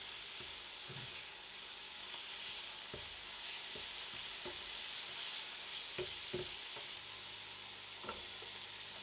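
Chicken and a teaspoon of lazy ginger sizzle steadily in a hot pan, with a bright continuous frying hiss and intermittent soft scrapes and knocks as the mixture is stirred around.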